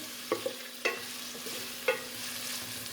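Keema being stirred with a wooden spoon in a pan gives a few distinct scraping strokes over a steady low sizzle and hum, close by and without speech.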